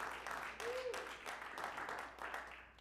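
Audience clapping at a jazz saxophone senior recital, a brief spread of applause under a voice calling out.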